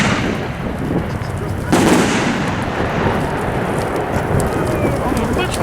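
Aerial fireworks shells bursting at a fireworks company's 2011 demonstration, Legend 1.4 section: dense, continuous crackling and popping with a louder burst near two seconds, booming steadily outdoors throughout.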